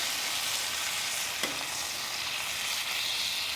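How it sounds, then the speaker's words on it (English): Pork browns on a flat-top griddle grill (an American Made Muscle Grill), giving a steady, dense sizzle throughout with one brief spatula scrape partway through, close and continuous. "let's just keep on getting this stuff browned up"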